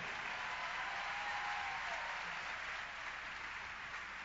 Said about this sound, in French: Venez, applaudissez-la.